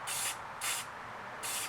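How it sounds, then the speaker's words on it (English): Textured spray paint hisses from an aerosol can onto a 3D-printed part in three short bursts, each a bright, close hiss separated by brief pauses. "Applying texture is another method, and you can do this with textured spray paint."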